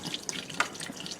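Millet grain is rinsed with water at a kitchen sink, with a soft running stream, light splashes and a few drips. The sound is quiet and close, with no voices.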